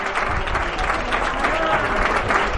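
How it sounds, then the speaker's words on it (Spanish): Ovation from a large crowd at an amateur football match between U.D. San Pedro and Nerja, continuous loud clapping and crowd noise filling the whole moment. "La ovación del numeroso público que ha venido hoy hasta San Pedro"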